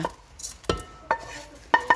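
Garlic-fried rice stirred with salt is scraped and tipped from a pan into an electric rice cooker, making a few sharp metallic clinks and scrapes with short gritty rustles between them, close up.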